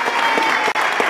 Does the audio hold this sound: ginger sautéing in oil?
no